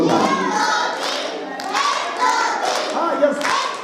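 Children clap in quick bursts during a clapping game at a school fair, loud and close, with kids' voices chanting and talking throughout.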